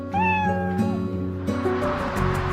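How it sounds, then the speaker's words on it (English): A cat meows loudly and close by in a couple of long, wavering calls with a low, groaning quality, alone with no talk over it. "That's a cat."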